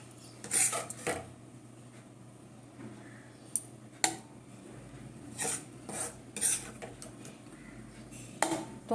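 Mango pulp being spooned onto metal plates greased with mustard oil, heard as intermittent clinks and scrapes of a spoon against metal, close and sparse, with quiet gaps between the strokes.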